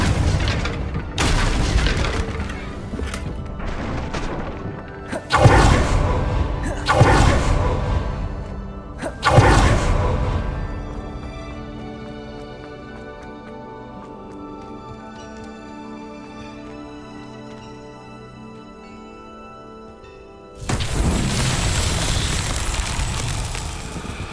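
Confringo blasting spells cast in the video game Hogwarts Legacy, a series of loud booming bursts with whooshing swishes, several clustered early, then a quiet stretch before another heavy blast near the end.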